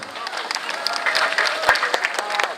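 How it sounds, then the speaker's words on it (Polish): A crowd claps for the Lewiczynek team at a village harvest festival in Bolewice, a short burst of scattered, fairly light applause heard at moderate distance, with a voice over the clapping. "Wielkie oklaski dla Lewiczynka"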